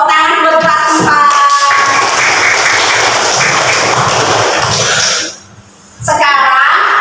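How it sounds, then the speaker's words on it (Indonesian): A fourth-grade class of children applauds together in a classroom: a burst of sustained clapping lasts a few seconds, then stops abruptly. Children's voices are heard just before and after the clapping. "tepuk tangan buat kelas 4"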